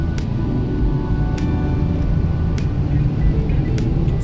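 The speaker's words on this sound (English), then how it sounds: "So it is going to dry the whole car outside." A car wash air dryer in Dubai blasts air to strip water off a car, making a loud, steady, close roar broken by a few sharp clicks.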